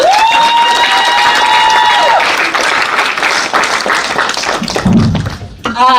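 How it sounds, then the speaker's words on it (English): A conference audience applauds steadily throughout, a dense wash of clapping, with a whistle or cheer at the start and voices mixed in. "this is the part where you clap for me now"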